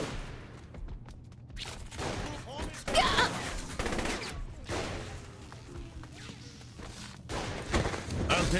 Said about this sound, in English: Shit, minigun!